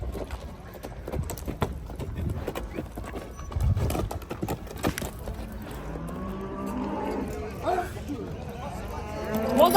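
Horses at a livestock market, hooves clip-clopping in an irregular close rhythm, with cattle and other animals calling nearby and people talking throughout.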